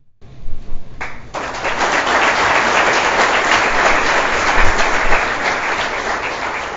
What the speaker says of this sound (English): big round of applause for Bhavin to be here.